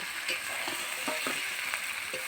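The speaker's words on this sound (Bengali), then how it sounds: "এবার এই মশলার মধ্যে তেল ছেড়ে দিয়েছি এই ভেজে রাখা মাছগুলো এর মধ্যে আমি দিয়ে দেব" Small fried murli fish hit hot spiced oil in a village kitchen, giving a steady close sizzle with a few scraping stirs and light clinks over the frying hiss.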